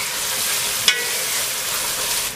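Sliced garlic cloves sizzling in hot frying oil, a steady loud hiss with a single brief clink partway through, no voices.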